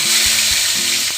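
Ginger and green chilli paste dropped into hot oil, a loud, close, continuous frying hiss and sizzle with a couple of low thumps, over a brief moment.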